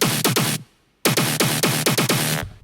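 A thick, buzzy layered saw synth mid bass plays stabbing rhythmic hits, a short burst, a brief silence, then a longer run of evenly spaced loud notes.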